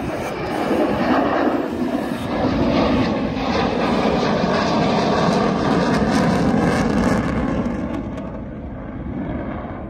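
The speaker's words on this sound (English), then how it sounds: "This Saab Viggen waving its wings at the crowd watching." A loud, sustained roar of a Saab Viggen jet passing low at an air show, broad and rushing, holding steady before easing slightly near the end.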